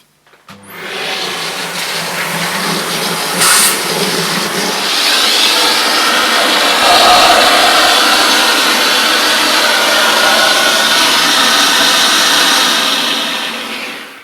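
A Miele S164 Quickstep stick vacuum cleaner fitted with a crevice tool runs in a steady, loud whine that stays close and constant after a short start, with a brief knock partway through and no voices.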